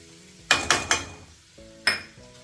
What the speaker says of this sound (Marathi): बेसन चाळून घेतलेलं आहे हे तेलामध्ये भाजून घेते